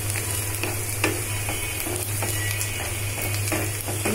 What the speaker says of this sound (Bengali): নেড়ে চেড়ে মশলাগুলো একটু ভেজে নিচ্ছি।